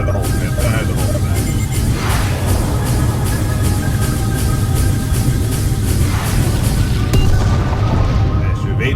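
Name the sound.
missiles firing in Freespace 2 video game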